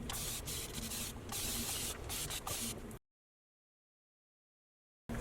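Close, steady hiss of a spray bottle misting water onto nearly dry 3C curly hair for about three seconds, then silence, with a brief burst returning at the very end.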